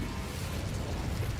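An Incendio fire spell is cast in the video game Hogwarts Legacy, producing a dense low rumbling burst that sustains evenly throughout, loud and close with no talk.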